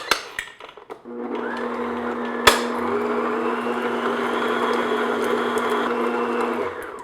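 An electric mixer beats room-temperature unsalted butter with a steady, whirring drone that starts after a brief pause, holding even and close with one sharp knock partway through and no talk.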